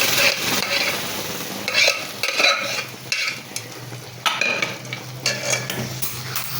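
A spoon stirs amaranth leaf dal (thotakura pappu) frying in a pan with asafoetida and small onions: a close, steady sizzle under repeated scraping strokes and light clinks of metal on the pan.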